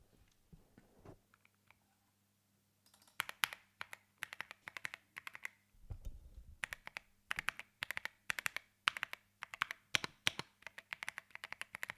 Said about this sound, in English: I'm gonna put the microphone close to the keyboard, and you guys let me know how the sound is.